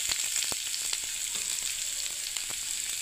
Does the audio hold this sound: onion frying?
yes